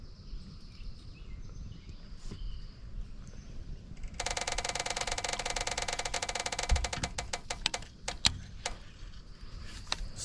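A prize wheel spinning in a one-on-one wheel spin challenge gives a long, loud run of rapid ticks that gradually slow and space out, with scattered handling noises before and after.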